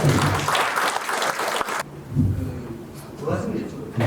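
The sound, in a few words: audience applause for a lawmaker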